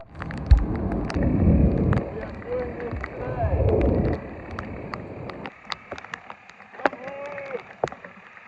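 Outdoors beside a modular tower hydroponic system, gusting wind buffets the microphone in two long, loud rumbling bursts. These give way to quieter air with scattered clicks and knocks.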